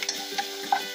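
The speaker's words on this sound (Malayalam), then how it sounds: "തേങ്ങയിട്ടൊന്ന് ഒന്ന് മൂപ്പിച്ചെടുക്കാം" Grated coconut roasting in a pan for a Malayalam coconut chammanthi, giving a brief, soft scrape of stirring with a light sizzle and a few small ticks.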